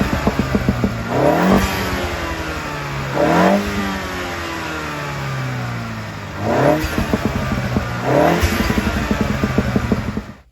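An F56 Mini Cooper S with an uprated air filter revs repeatedly from idle, four sharp rising blips that fall back to a steady idle, loud and close with no talk.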